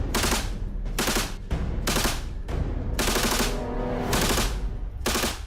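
Heavy weapons fire in bursts during commando training for the Indonesian Air Force special forces, loud, close and repeated in rapid volleys with short gaps, with no talk over it.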